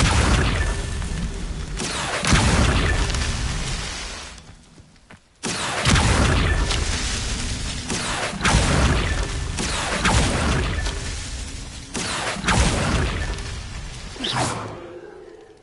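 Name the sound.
Levioso and Accio spells cast in video game Hogwarts Legacy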